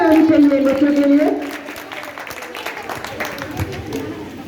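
An audience applauds a children's dance performance at a 15 August dance academy program; a voice speaks first, then scattered clapping carries on at moderate volume.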